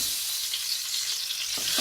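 Fried eggs sizzling in a pan with red chili powder while being stirred for okra egg curry, a bright steady hiss close up with a couple of soft scrapes near the end.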